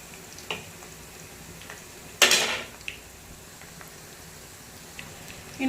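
Bitter gourd pakoras frying in hot oil and being turned over, a quiet steady sizzle broken by utensil clinks and one loud splashy burst partway through.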